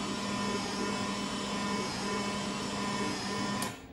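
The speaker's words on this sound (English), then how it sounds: "I'm gonna flip the sound back on so we can just hear that horrible noise." A DIY modular synthesizer driven by an Apple II computer produces a harsh, steady droning noise with constant hum and hiss that holds loud throughout before dropping slightly near the end.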